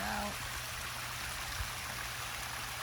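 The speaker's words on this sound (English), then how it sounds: "There you can see some of the flow of that water out." Hot spring water at Thermopolis, Wyoming flows steadily over terraces with a continuous broad rushing and trickling hiss, heard outdoors on a rainy day with a brief voice at the start.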